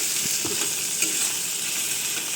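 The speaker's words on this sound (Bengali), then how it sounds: "এখন এটাকে হালকা ভাজবো।" Onion, egg and chicken sizzle loudly and evenly in a pan for egg chicken fried rice, with a few soft stirring knocks in the first second. No one speaks.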